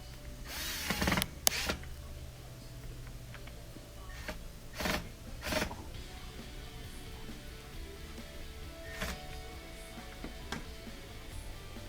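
A power drill drives screws into an LG dishwasher during a repair, giving several short, sharp whirring bursts separated by pauses and small clicks and handling noises.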